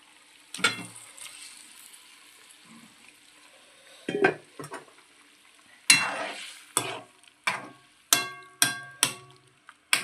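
Fried eggs dropped into a simmering tomato curry and stirred with a spoon, a series of sharp clanks and scrapes against the pan, bunched toward the end over a quiet bubbling.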